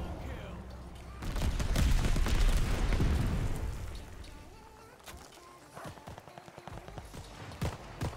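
A burst of rapid gunfire in the Call of Duty Vanguard video game rattles loudly for a couple of seconds, followed by scattered fainter shots and impacts.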